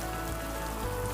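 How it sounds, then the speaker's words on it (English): Steady rain falling on a surface, a dense even patter with no breaks across a brief stretch. "It is rainy."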